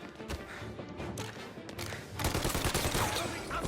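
Dense bursts of gunfire crackle through a Mafia: Definitive Edition shootout. Shots come in rapid overlapping volleys and get louder and more continuous toward the end. There is no clear talk.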